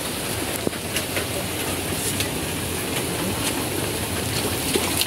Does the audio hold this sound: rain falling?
yes